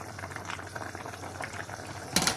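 Meat and okra stew simmers in a pot, a continuous low bubbling boil heard close up, ending with a brief louder splash or stir.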